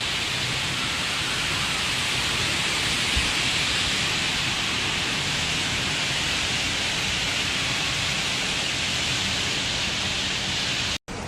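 Heavy typhoon rain in eastern China, a dense, unbroken roar of falling water that stays loud and constant throughout before cutting off abruptly at the very end.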